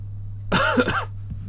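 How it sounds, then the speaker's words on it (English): A short cough or throat-clearing from whiskey fumes, close and slightly rough, over a low steady hum, then quiet. "Sorry about the coughing"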